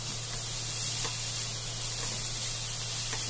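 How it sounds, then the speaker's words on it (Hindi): Boiled peas sizzle steadily in a pav bhaji pan as they are stirred, with a constant bright hiss and faint scraping touches, close and continuous, with no talking. "अब मैं इसमें बॉईल किया हुआ मटर मैं डाल रही हूँ। इसे भी मैं 2 से 3 मिनट चलाऊंगी।"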